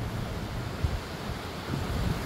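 Sea waves at a beach in Vallarta wash in a continuous broad roar, mixed with wind buffeting the microphone, with no voices.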